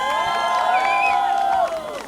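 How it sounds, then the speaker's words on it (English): A crowd at an engagement and sangeet celebration cheers and whoops loudly, with shouting voices over a dense, steady roar that drops off slightly near the end. "And an even bigger round of applause"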